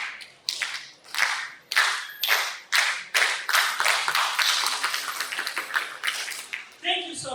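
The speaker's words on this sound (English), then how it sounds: "Okay, start to clap." Audience at a health forum clapping hands in unison, a series of loud rhythmic bursts of synchronized claps that gradually speed up, ending with a brief voice.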